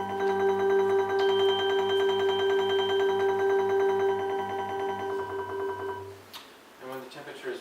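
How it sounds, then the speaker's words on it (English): Synthesized MIDI vibraphone tones sonifying rain data, where heavier rain events trigger higher and louder pitches; sustained, ringing mallet notes layered in a steady stream for about six seconds before fading into brief noise at the end. "MIDI vibraphone is going to sound, and higher, heavier rain events are going to mean higher pitches and also louder vibraphone pitches"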